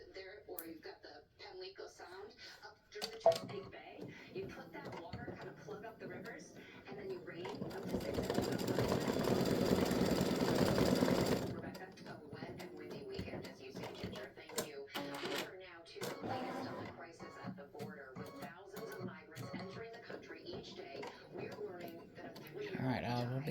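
An embroidery machine sews the mouth of a Halloween witch design, a rapid, even burst of stitching that runs for a few seconds, with a person talking nearby before and after.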